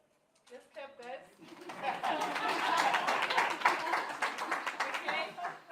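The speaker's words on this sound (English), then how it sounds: "let's clap," An audience at a workshop claps together after a short burst of voices, the applause swelling to a dense, fairly close patter and then thinning out.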